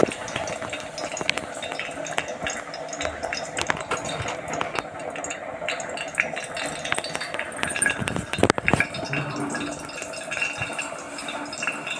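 Cashews, raisins and dry coconut fry in a hot pan with cloves for sweet Pongal, giving a steady close crackle with frequent spoon-and-pan clinks as the mix is stirred.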